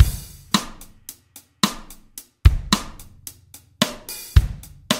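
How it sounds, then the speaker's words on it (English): GarageBand virtual drummer playing a slow, soft rim shot loop: crisp drum hits and cymbal strikes in a steady, repeating pattern, close and clean with no talking. "he creates a nice, slow, soft rim shot loop"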